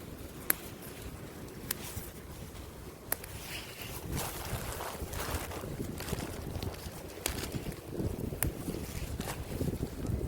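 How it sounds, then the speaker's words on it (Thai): Strong, dry stormy wind roars and buffets the microphone in a steady, rough rush, with a few sharp clicks scattered through it and no voices. "โอ้ยเสียงลมแห้งพี่น้องเอ้ย"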